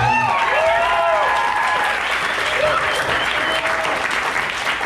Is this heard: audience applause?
yes